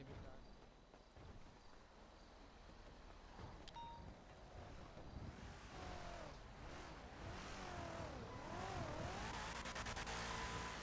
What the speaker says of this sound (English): Oh, the third time that car's driven by.